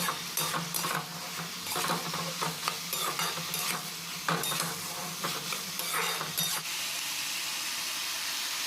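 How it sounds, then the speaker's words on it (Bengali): Bitter gourd and potato with green chilli and chopped tomato are stirred in a pan over a constant sizzle, with repeated scraping strokes of a spatula. The stirring stops near the end, leaving only a steady frying hiss. "আবারও এটাকে আমি একটুখানি নাড়াচাড়া করে নেব একসঙ্গে মিক্স করে নেব"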